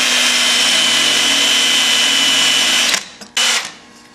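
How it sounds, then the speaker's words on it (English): Power drill countersinking a screw hole, a loud close high-pitched whine held steadily for about three seconds, then briefly stopping and restarting in a short burst before winding down. "let me countersink more"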